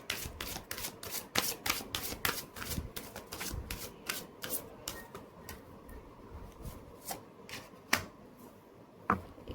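Tarot cards shuffled and drawn by hand, close and quiet, with a rapid run of crisp flicks and riffles followed by sparser single snaps and slides as cards are pulled, no talking.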